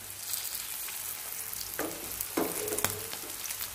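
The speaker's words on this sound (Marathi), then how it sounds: "हे बघा, तेलामध्ये आपल्याला छानसं फ्राय करून घेऊया" Potato patties fry in hot oil with a steady, even crackle, joined by a few sharp clinks and scrapes near the end.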